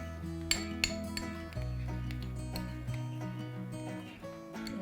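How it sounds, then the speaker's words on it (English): A spoon stirs chia seeds in a bowl, giving repeated close clinks and scrapes against the bowl over a steady humming background, with sharper taps at the start and end. "So, give it a little stir."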